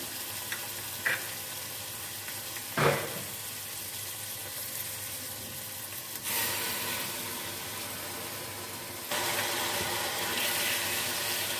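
Mixed vegetables and noodles sizzle steadily in a hot pan while being stir-fried, with a constant close frying hiss, a few clanks of a utensil, and the sizzle growing louder as more goes in.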